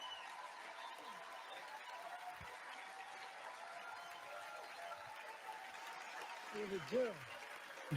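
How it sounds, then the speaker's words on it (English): Sustained applause fills a crowded House chamber during the 2024 State of the Union, a steady wash of clapping that keeps going without letting up, with a few faint voices mixed in near the end. "They just kept clapping."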